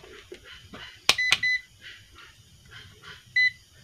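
A multimeter's continuity buzzer gives two short electronic beeps close together, then a third a couple of seconds later. Each is shrill and steady, heard against faint background noise and low handling sounds during a test on a phone-charging power supply board.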